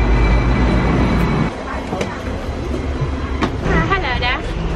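A Hong Kong tram ride heard from inside the car, with a loud steady rumble and rattling of the running tram, occasional clanks and squeals, and people talking over it.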